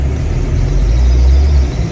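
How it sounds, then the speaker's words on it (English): A Porsche 924S engine runs at a steady idle just after starting, a low continuous rumble, close and even, with no voices. "Car fires right up."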